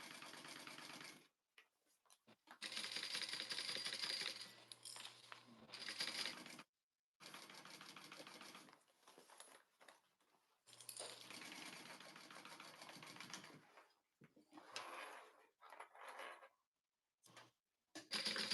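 A sewing machine stitches the outer layers of a Rae Dual Zip crossbody bag in several bursts of steady whirring, broken by short pauses, heard close and with no talking.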